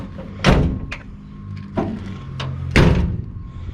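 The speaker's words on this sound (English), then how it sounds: "Shut the doors in the right order" Doors on a newly bought van are shut one after another, giving two loud, close slams with a lighter latch clunk between them and a quiet pause around each.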